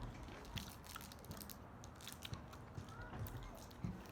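Biting and crunching on sour food at an eating contest, a series of faint, irregular crunchy bites spread over a few seconds against a soft, noisy background.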